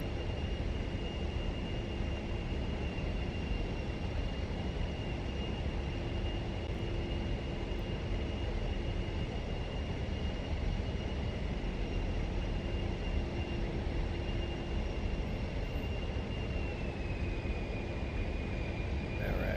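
A-10 jet in the DCS combat flight simulator, its engine holding a steady, fairly quiet whine and drone with a sustained tone throughout, no voices over it.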